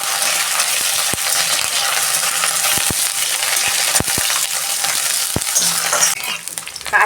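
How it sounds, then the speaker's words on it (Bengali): Onion and curry leaves frying in a pan for a pointed gourd mash, a loud dense sizzle throughout with scattered sharp metallic clicks and taps of a utensil against the pan, nearby and no speech. "এই যে পেঁয়াজ আর কারি পাতা আমার ভাজা হয়ে গেছে"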